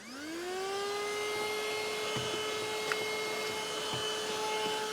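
A ThisWorx cordless car vacuum cleaner spins up and runs steadily, a close, loud whining whir with a stable high pitch and occasional small clicks as it picks up debris.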